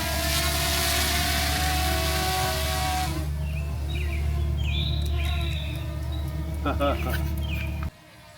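Birds call and cluck close by while a DJI Mini 4K drone hovers with a steady whirring drone, someone talking over the sounds before the drone noise cuts off.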